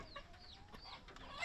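Chickens on a small organic farm in Tamil Nadu cluck in short, close bursts over a steady hum of rural ambience, with no talking.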